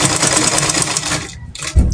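A sewing machine stitches the ends of a scrunchie, a steady close mechanical whir that runs continuously, then eases off near the end before a short thump.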